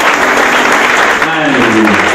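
A church congregation at an evening testimony gathering claps loudly and steadily, with voices calling out and cheering over the applause.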